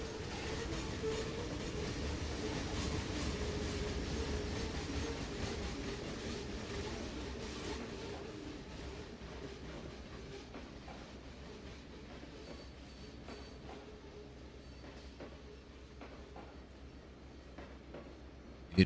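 A long train in the video game Trainz 2022 rumbles steadily along the tracks, wheels clicking and occasionally squealing, the roar slowly fading as it passes.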